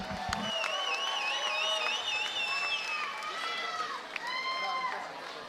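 Crowd applause and cheering fill a hall at a live MMA fight after a bout ends in a draw, a steady broad wash of clapping with whistles and shouts running throughout, loud and sustained.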